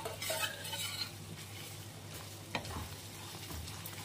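Fried potatoes being stirred into masala in a pan over low heat: soft scraping and clinking of a spoon against the pan with a faint sizzle underneath, fairly quiet and close, with no voices.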